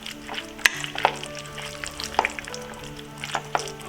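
Spiced ground lamb and rice being mixed by hand in a large bowl for an Instant Pot pilaf, with soft wet squelching and a few sharp clicks and knocks against the bowl, close and uneven.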